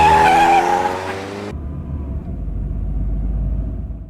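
A car engine rumbles as the vehicle is turned around, a loud revving tone with a brief squeal that cuts off, then a lower steady idle rumble.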